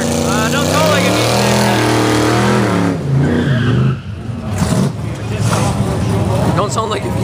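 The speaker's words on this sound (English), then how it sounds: "Mikey versus V6 Firebird." A V6 Pontiac Firebird with a 2.8 litre engine races, its engine rumbling loud and near and then fading into roaring, tire-squealing noise, with people talking excitedly over it.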